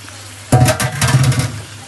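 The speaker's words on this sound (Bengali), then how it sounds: "এখন মশলাটা কষানো হয়ে গেছে, আমি শাকগুলো দিয়ে দিতেছি" Bottle gourd greens drop into a hot spice paste for a fish-head curry and start sautéing, a sudden burst of hissing and crackling after a quiet start that keeps going loud and close.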